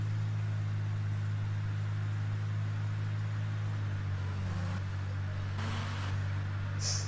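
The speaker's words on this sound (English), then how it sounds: "The car sounds in this game are so weird." A low, steady car engine hum from the video game The Sims 3 drones throughout, shifting pitch slightly midway, with faint synthetic whooshes near the end.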